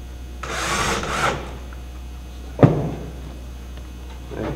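A power drill drives a screw into a wall panel in one short, buzzing burst of just under a second, followed by a sharp knock as the panel is handled, with quiet room noise around it.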